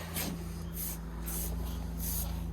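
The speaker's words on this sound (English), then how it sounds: "As you can see, it sprays really nicely." Lanoguard rust-proofing spray is applied to a Toyota Hilux truck in cold weather, heard as four hissing bursts of spray over a steady low compressor-like drone, close and fairly quiet.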